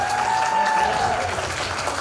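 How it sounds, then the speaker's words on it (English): Audience applause at the WOW (Wonders of Womanhood) 2021 award night, a steady wash of clapping with a sustained tone running through it and voices mixed in. "Everyone please round of applause to Maxinne."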